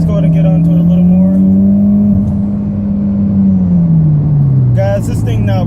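A 2014 Mitsubishi Evolution MR pulls hard under acceleration, its engine note droning loud and close and climbing then easing back, with a brief burst of higher mechanical noise near the end.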